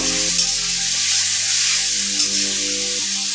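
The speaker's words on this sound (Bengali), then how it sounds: "এবারে ভেজে রাখা আলুটা দিয়ে দেবো।" Pre-fried potatoes dropped into hot oil for a Bengali fish curry with potato, giving a loud, continuous close sizzle and spitting crackle that runs steadily throughout.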